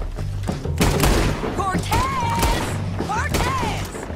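Gunfire in the Western action game Red Dead Redemption 2, with several sharp, loud shots and booms spread across a busy in-game soundscape. Whistling tones rise and fall between the shots.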